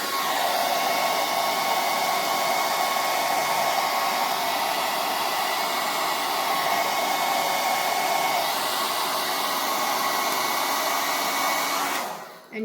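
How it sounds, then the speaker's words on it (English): A hair dryer blasts hot air onto a wig while it is combed and held down for styling, a loud continuous roar filling nearly the whole stretch before cutting off at the end. "we're going to blow dry it to heat it up a little bit"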